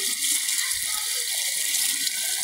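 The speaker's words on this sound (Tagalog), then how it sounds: "Grabe yung agos po ng tubig dito." A strong river current rushes steadily, a constant hiss of flowing water that fills the scene from start to end, with no voices.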